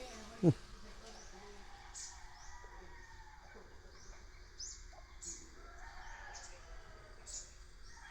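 Faint chickens clucking and a rooster-like call outdoors on a farm, with a brief loud thump near the start and scattered bird chirps.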